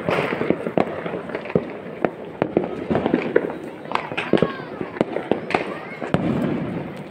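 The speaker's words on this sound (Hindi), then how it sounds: "अरे किसी के ऊपर भी आ जाएगा अनार बम" An anar fountain firework goes off during a Karva Chauth celebration, with repeated crackling pops and bangs amid a sizzling spray while people talk and shout nearby.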